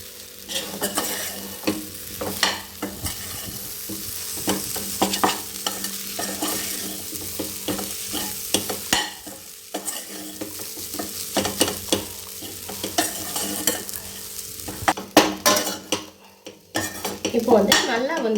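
Crumbled idli is stirred into an egg mixture in a pan for egg kothu idly, with a spatula scraping and clinking against the metal in quick irregular strokes over a steady sizzle.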